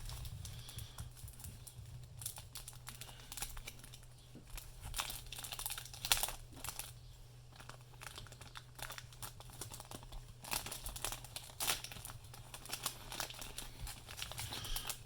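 Small plastic coin bag being crinkled and opened by hand, soft irregular crackles and rustles with a few sharper snaps, close and fairly faint over a low hum.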